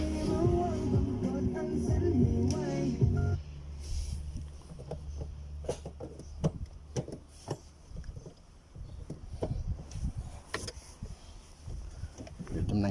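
A car engine is cranked and started after a fuel pump replacement, giving a loud, steady low drone for a few seconds that cuts off into scattered clicks and knocks while someone talks.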